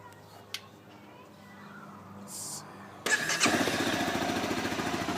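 A 2012 Honda CBR 250R motorcycle sits quietly before its engine cranks and catches about midway, settling into a steady, moderately loud idle after a brief faint whine and a click.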